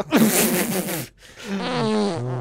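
Comic fart noises from the Batman and Robin movie, two long sputtering blasts, the first loud and rasping, the second a higher, wavering buzz after a short gap, with no talk over them.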